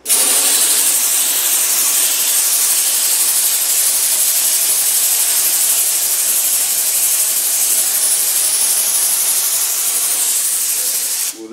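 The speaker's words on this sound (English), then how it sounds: "you want to spray it on" A spray gun lays adhesive onto the lower dash of a Land Rover Defender in one loud, unbroken hiss that holds steady for about eleven seconds before cutting off.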